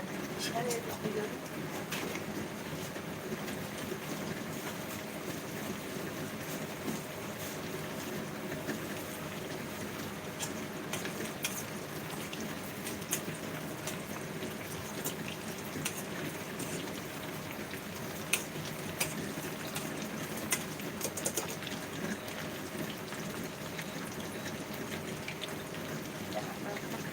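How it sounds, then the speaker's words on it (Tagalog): Heavy rain pours down in a dense, constant hiss of countless drops, with occasional louder splashes, steady and close throughout, with faint talk beneath it. "Grabe, ang lakas na ulan."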